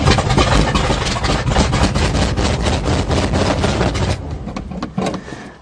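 A 1977 GMC truck with a 400 small-block engine cranks and catches in snow, then runs loud and rough with rapid uneven firing pulses, close up, settling toward a lower, quieter idle near the end.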